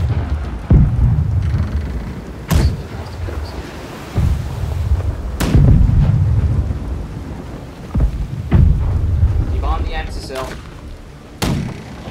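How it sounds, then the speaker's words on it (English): Deep booming ship cannon blasts from the video game Blackwake go off one after another at irregular intervals, each with a rumbling tail, while a voice talks faintly in the background. "Front cannons fire."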